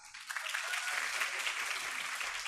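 An audience at a talk on gut health breaks into applause, a dense, even patter of many hands clapping that builds quickly and holds steady.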